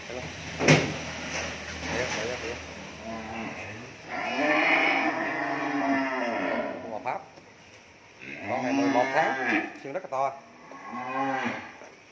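Cattle on a cattle farm, newly arrived by truck, moo repeatedly in long, loud, drawn-out calls, some close by. People talk and there are occasional clanks between the calls.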